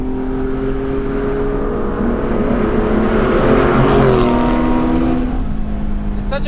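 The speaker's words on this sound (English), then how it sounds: "It's such a unique sound. I've never heard a car like this." A Deman 4.5L Porsche Spyder engine roars loud and close in a steady, droning pull through canyon roads, its pitch climbing and then easing off, with no talk over it.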